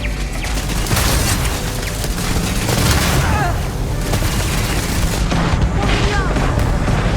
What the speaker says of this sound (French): Balance une grenade.